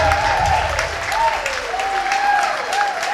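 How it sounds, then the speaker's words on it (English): A music festival crowd in San Pedro applauds steadily throughout, dense clapping that swells and eases slightly, with a faint tonal whistle or cheer riding over it. "Give her a big round of applause if you will."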